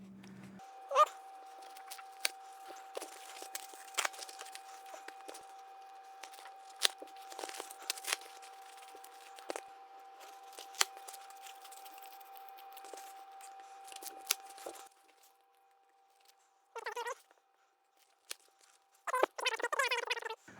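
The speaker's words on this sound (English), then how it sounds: "I'll try these Harbor Freight scissors first" Scattered snips and crinkling of Harbor Freight scissors cutting material, irregular and close, with a faint steady hum underneath and a few brief noises near the end.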